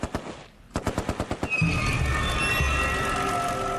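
A Vickers heavy machine gun firing a fast, steady burst of loud, close shots, followed by a sustained roar.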